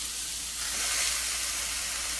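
Sous vide flank steak sizzling on a hot grill pan, a continuous bright hiss that holds steady and swells slightly midway, close and alone with no talking.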